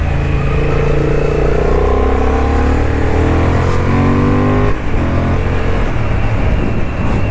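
A 2023 Honda CB750 Hornet motorcycle accelerates hard, its loud engine note climbing in pitch through rising sweeps, briefly dipping at a gear change and then climbing again.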